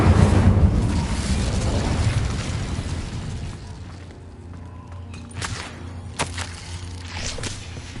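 In Hogwarts Legacy, the Incendio fire spell bursts out with a loud, booming whoosh of flame that fades over a few seconds, followed by quieter crackles and a few sharp pops.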